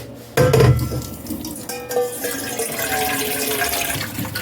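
Water pours from a tap into a pot for making tea, starting with a sudden splash and settling into a steady, bright rushing stream that continues to the end, close and fairly loud.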